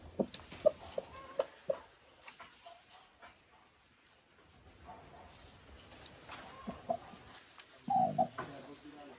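A broody hen in a nest on a small farm gives low, scattered clucks and soft murmurs, with faint background sounds and a brief burst of louder clucking near the end.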